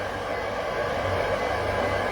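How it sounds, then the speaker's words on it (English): A steady, loud whooshing hum of a hair dryer blows without pause, close by and unchanging. "I've kind of got a hairdryer drying myself"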